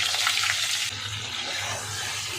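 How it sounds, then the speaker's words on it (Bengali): Pieces of pointed gourd frying lightly in a pan, a brief, even hiss of sizzling oil heard up close with no talking. "তাতে পটল দিয়ে একটু হালকা করে পটলটাকে ভাজতে হবে"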